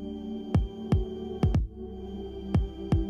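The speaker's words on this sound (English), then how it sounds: "Or you can even share something as personal as your own heartbeat." A heartbeat shared through an Apple Watch, played as soft low thumps in lub-dub pairs, about six beats at a steady slow pace over a quiet hum, close and clear with no talking.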